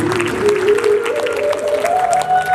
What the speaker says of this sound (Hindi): और एक बार अपने लिए भी सब ताली बजा लीजिए, बढ़िया से।